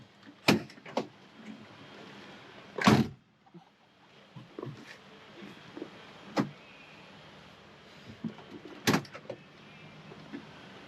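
Window on a restored 1966 Ford Mustang being rolled down by hand, giving soft mechanical cranking with a few sharp clunks and thumps close by inside the car, no talking.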